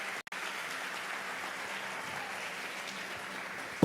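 Applause from a church congregation, a soft, even wash of clapping heard at a distance, steady throughout and fairly faint.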